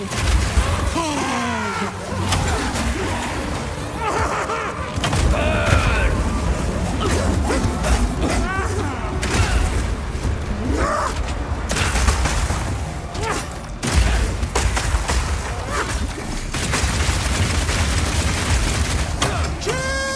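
Chaotic combat from Path of Exile 2's Rapid Fire attack: a dense stream of shots, bursts, booms and crashes continues nearly unbroken, overlaid by frequent voices in the fray.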